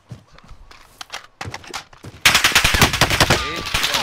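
Gunfire rings out in a first-person shooter video game, starting with scattered shots and footsteps and then breaking into a loud, rapid automatic burst of rattling rounds with echoing tails.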